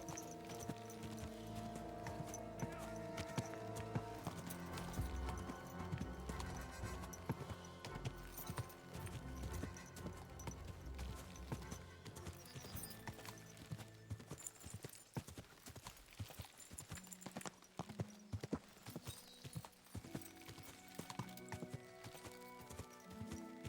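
Horse hooves clip-clop in a fast, steady gallop through Kingdom Come: Deliverance II, the rhythmic beats continuing throughout alongside music and occasional shouted voices, with hoofbeats sharpening in the latter half.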